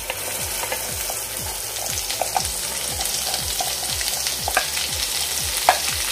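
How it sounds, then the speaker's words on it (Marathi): Ground spice paste sautéing in hot oil for Khandeshi-style shev bhaji rassa, a steady loud sizzle with rhythmic scraping stirs, close and continuous without talk. "आता यामध्ये आपण जे वाटण करून घेतलंय ते घालून घेऊयात"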